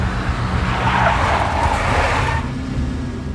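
A big black Mercedes skids in the video game Max Payne. Its tires squeal steadily over a loud engine roar, close and continuous for a few seconds before the screech cuts off.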